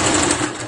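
A domestic sewing machine stitches in reverse with a steady, fast mechanical whir, close and continuous for a brief moment with no talking.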